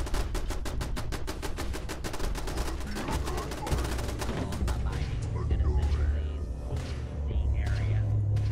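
Gunfire from a piercing minigun in the game Fallout 4: a rapid, steady burst of loud shots for about four seconds, then scattered distant gunfire over rumbling background noise, with a voice faintly heard.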